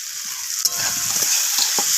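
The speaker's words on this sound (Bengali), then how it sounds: "তো আলুগুলোকে মশলার সাথে কষিয়ে নিচ্ছি।" Fried potatoes tossed with spices in oil in a pan, a bright sizzle with a clatter of stirring as the spatula starts, then continued scraping, up close with no talk.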